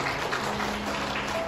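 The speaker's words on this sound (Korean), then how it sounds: "여러분 다시 한번 큰 박수 부탁드리겠습니다" Guests at a wedding ceremony clap together, a sustained, even patter of applause heard at moderate level without speech over it.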